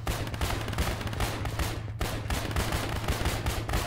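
Dense, continuous gunfire from the video game ARMA rattles on without a break, rapid overlapping shots forming a steady, fairly loud barrage.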